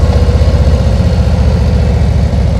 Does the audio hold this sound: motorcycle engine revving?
yes